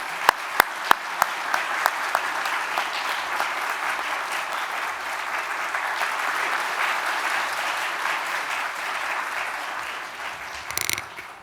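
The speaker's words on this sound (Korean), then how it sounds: "우리 박수로 잠깐 환영하겠습니다." Congregation applause welcoming missionaries during a Sunday church worship service, a steady sustained wash of clapping from many hands lasting the whole stretch, opening with a few distinct individual claps and tapering near the end.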